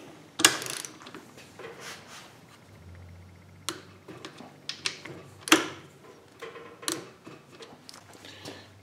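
Wrench ratcheting and torquing bolts on a TH400 Turbo 400 Hydra-Matic transmission during a Transgo shift kit install, with scattered metallic clicks, clanks and ratchet ticks at close range and no speech.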